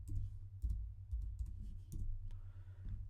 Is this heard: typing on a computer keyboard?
yes